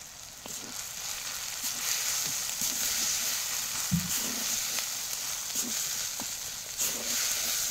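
Steady, even sizzling of turmeric and chili powder frying in oil in a pan, with occasional scrapes and taps of stirring throughout.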